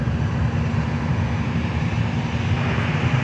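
An Air Canada Rouge Airbus A320 passes at Fort Lauderdale-Hollywood airport, a steady, close engine roar with a heavy low rumble that holds even and unbroken throughout.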